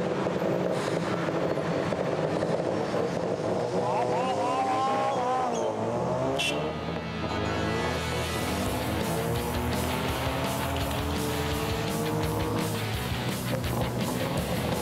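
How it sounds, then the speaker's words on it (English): A small LPG-powered tuk-tuk engine running steadily while riding, a continuous rumbling drone with shifting pitch as it accelerates, loud and close with road noise and occasional voices mixed in. "Nice engine noise."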